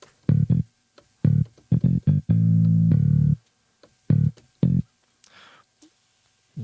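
A synthesized bass line played on an Ableton Push controller: short, punchy low notes in a syncopated run, then one longer held note, a few more stabs and a quiet tail.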